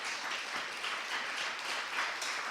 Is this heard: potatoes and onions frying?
no